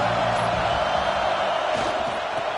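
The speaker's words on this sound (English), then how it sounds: "This crowd ready to make its presence known." Stadium crowd in the NCAA 26 college football video game, a steady, loud roar of massed voices and cheering that holds level throughout with no let-up.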